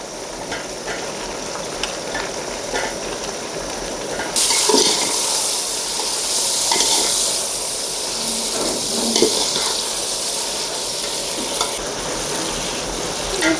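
Onions and tomatoes frying in a pot for chicken biryani, a continuous close hiss and sizzle that grows louder midway, with occasional scrapes of a stirring spoon against the pan.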